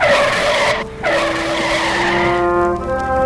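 A truck's tires squeal loudly in a long skid to a stop, a radio drama sound effect in a Superman adventure, with a brief break before the screech winds down.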